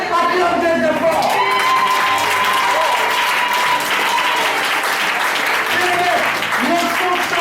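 A church congregation bursts into sustained, dense applause mixed with cheering and scattered shouts, loud and continuous throughout as voices call out within the crowd.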